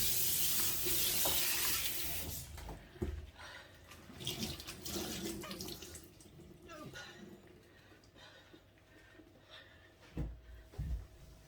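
Dishes washed by hand in a home sink: running tap water pours loudly at first, then intermittent clinks, splashes and rattles of crockery continue at close range.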